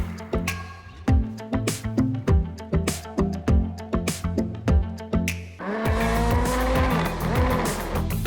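A Traxxas Slash 4x4 RC car with a brushless motor drives close by, its electric motor whining loudly in repeated bursts of acceleration before settling into a sustained high-pitched run.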